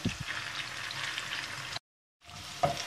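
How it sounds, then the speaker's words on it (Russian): Meatballs sizzle and crackle steadily in a hot pan over medium heat, broken by a short silence before the frying resumes. "Жарим фрикадельки на среднем огне до золотистого цвета."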